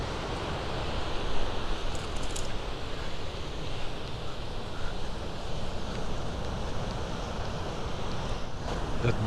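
Ocean surf rolls against the coast in a continuous broad wash, with gusty wind buffeting the microphone throughout and no voices.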